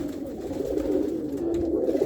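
A dense flock of mixed racing pigeons at a loft feeder, returning from a 20 km flight, coos steadily and continuously, many birds overlapping in a close, loud, unbroken murmur with no talk.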